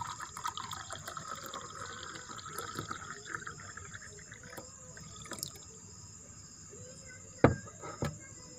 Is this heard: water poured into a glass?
yes